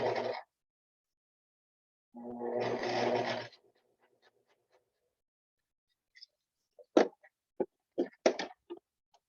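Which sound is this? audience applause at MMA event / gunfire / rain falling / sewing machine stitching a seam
sewing machine stitching a seam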